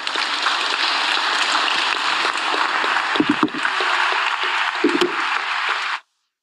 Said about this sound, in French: je pense qu'on peut applaudir l'ensemble des participants